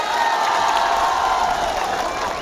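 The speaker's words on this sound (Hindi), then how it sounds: "जोरदार तालियां मार दीजिए।" A large outdoor crowd at a tribal Dahi Handi festival claps and cheers loudly, a continuous swell of applause with whoops mixed in, heard from within the crowd.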